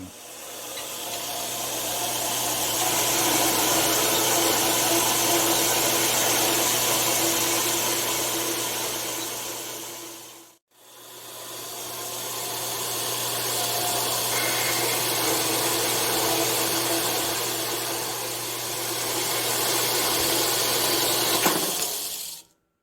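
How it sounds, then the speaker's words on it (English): Pins are being welded onto a shop-built 3/8 round bar bender: two long, steady, loud hissing, crackling welding runs separated by a brief pause, each ending abruptly. "Let's go weld them pins in now."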